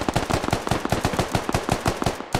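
Rapid automatic gunfire from the military shooter Squad, a fast steady string of sharp close shots repeating evenly for a couple of seconds without a break.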